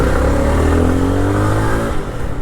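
A 2025 Jawa 42 FJ 350 motorcycle engine hums loudly and smoothly while riding, holding a steady mid-pitched drone with a slight rise in revs before easing off near the end, wind noise mixed in.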